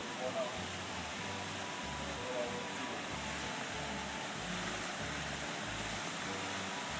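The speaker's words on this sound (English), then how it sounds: "See the water out there running." Water running steadily in an outdoor courtyard, a constant hissing wash of flow with no clear breaks, moderate level and fairly close, under a low rumble of background noise.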